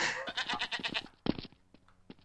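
A goat in the video game Garry's Mod lets out a long wavering bleat, then a few short clipped bleats follow, moderately faint with no talking.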